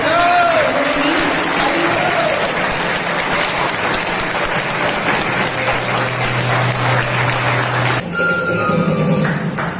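Audience applause greeting a leader as he comes onto the stage at an RCM programme, dense and sustained at close range for about eight seconds before a short change with a low hum and a voice.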